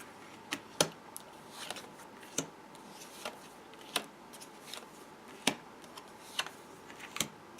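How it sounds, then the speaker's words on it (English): Tarot cards dealt one by one into a Celtic Cross spread, a soft steady series of light card slaps and slides on a table, faint and close, with no voices. "I'm going to deal the Celtic Cross"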